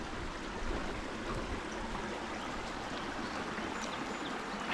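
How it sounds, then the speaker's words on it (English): Steady rushing of a creek flowing nearby in the woods during turkey season, a constant watery hiss and gurgle with no voices. "Creek noise will cover my noise for a little bit here."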